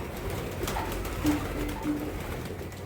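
Soft pigeon coos, a few low throaty calls close by over a constant murmur of background noise.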